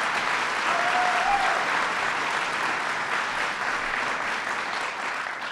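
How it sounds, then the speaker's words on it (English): An audience at a fair pay campaign rally applauds Lieutenant Governor Kathy Hochul, a loud, thick roar of clapping that stays full and even, easing only slightly toward the end. "Let's give the Lieutenant Governor a round of applause"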